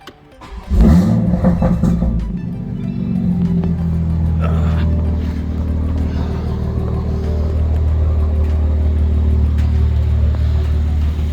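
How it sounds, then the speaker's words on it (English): A modified BMW B58 inline-six car engine cranks and catches, then settles into a loud, steady idle with a faint rapid ticking from its fuel injectors running through the rumble. "You're gonna hear a little more injector."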